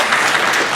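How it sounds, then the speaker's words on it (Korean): A church youth group audience claps loudly in a brief, dense burst of applause, close and continuous. "다시 한번 큰 박수 한번 해주시죠"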